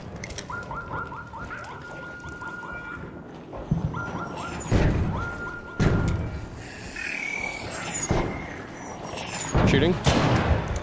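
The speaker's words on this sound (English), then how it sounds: "Shooting." Gunfire in the video game Arc Raiders, several sharp shots cracking out in bursts amid electronic game chirps, with voices talking over the action.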